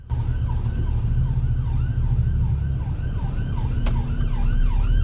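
An ambulance siren wails steadily in a repeating rising-and-falling pattern while approaching a roundabout, heard from inside a car over a constant low road rumble.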